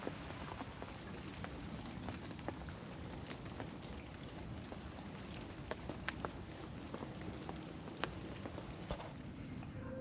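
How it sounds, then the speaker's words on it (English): Steady semi-heavy rain falling at a lake, a dense continuous hiss and patter with scattered louder drops hitting nearby surfaces, unbroken throughout and with no voices. "It's just continuous semi-heavy rain."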